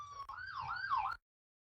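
Emergency siren blaring, a loud wailing tone sweeping up and down for about a second before cutting off abruptly.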